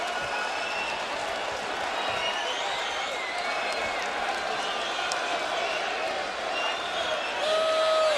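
A large boxing arena crowd roars steadily through a bout between Tomasz Adamek and Johnathon Banks, a dense continuous murmur with scattered cheers and claps, swelling louder near the end while a commentator talks over it.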